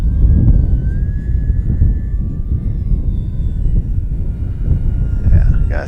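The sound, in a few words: FMS Kingfisher RC model plane flying in wind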